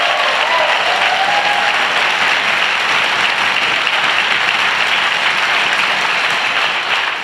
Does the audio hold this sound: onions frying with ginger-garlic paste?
no